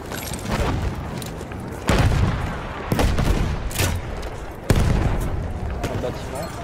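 Grenade blasts and rattling gunfire fill a Battlefield 1 battle scene, with several heavy booms landing over continuous loud shooting and voices shouting in the mix.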